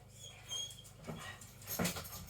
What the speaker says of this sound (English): You can hear the dog whining.